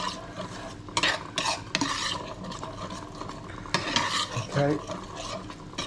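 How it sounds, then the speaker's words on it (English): Cream being stirred into a hot pan for seabass gives close scraping and clinking of a utensil against the pan over a soft sizzle, in irregular bursts, with a brief spoken word. "I'm just going to stir it in"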